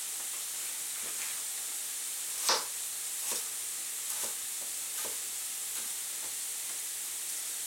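Sliced fennel added to carrots frying in a pan, a faint steady sizzle and hiss with a few soft scraping stirs, quiet and close with no voices.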